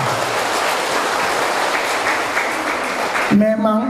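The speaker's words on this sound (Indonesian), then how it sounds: "beri tepuk tangan yang begini" Church revival crowd at a GMIT congregation clapping in a dense, steady wash of applause for over three seconds before it cuts off and a voice begins speaking.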